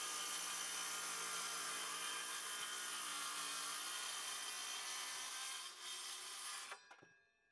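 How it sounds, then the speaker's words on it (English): A saw, guided along a clamped speed square and straight edge, cuts out a plywood tabletop in one loud, continuous close whine that winds down and stops near the end, with no speech. "Then using a clamped on speed square and a straight edge, I cut out my plywood top"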